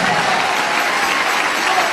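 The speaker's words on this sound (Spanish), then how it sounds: "Dele ese aplauso a Jesús, hermano" Church congregation applauding during an evangelical testimony service, a dense, even roar of clapping from many people, loud and unbroken for the whole stretch.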